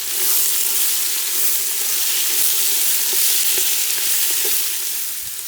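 Onions, leeks and carrots browning in a cast-iron potjie over a wood fire, giving a steady, loud sizzle and crackle that fills the whole stretch, with a few faint stirring knocks.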